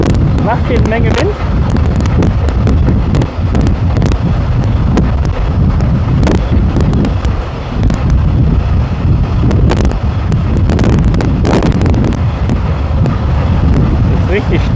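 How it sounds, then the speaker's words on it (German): Strong wind buffets loudly and continuously, with rushing gusts and rumbling road noise, and a voice speaks now and then over it. "Das ist richtig stürmisch gerade."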